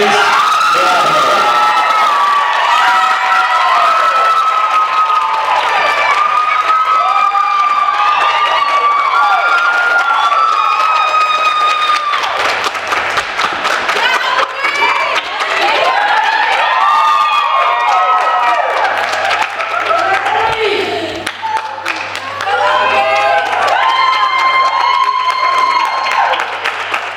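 Pageant audience at the Miss Phenix City crowning cheers, whoops and claps loudly and continuously, with children shouting among the crowd and an announcer's voice intermittently over the din.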